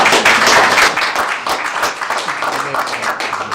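Applause from a school board meeting audience right after a motion is defeated 7-2, a dense, steady patter of many hands that is loudest at the start and then eases slightly, with some talk mixed in.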